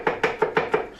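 Five even knife strokes chop garlic on a cutting board for a mushroom stew, each a crisp, close thump spaced about a fifth of a second apart, with no talking.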